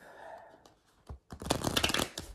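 A brand-new, stiff tarot card deck is shuffled by hand. After a quiet start with faint handling, a dense, close flurry of card riffles and flicks follows.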